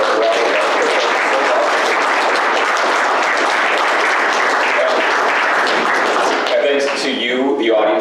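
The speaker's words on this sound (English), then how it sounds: "One last round of applause for all three panelists." A debate audience gives the three panelists on Canadian family law reform a loud, sustained round of applause, with a voice starting to speak as the clapping fades near the end.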